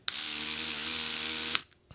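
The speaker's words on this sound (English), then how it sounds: "the first one we have is this little toothbrush thingy" A small electric toothbrush buzzes loudly for about a second and a half, a steady vibrating hum that cuts off abruptly, followed by a brief faint click.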